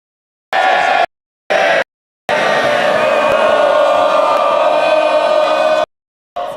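MPs in the House of Commons raise loud, sustained cheering and roaring in several bursts, a short one, another short one, then a long swelling stretch and a final brief burst, with clean silences between.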